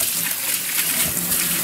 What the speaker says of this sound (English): I'm just going to take some water and I'm going to rinse them really nicely.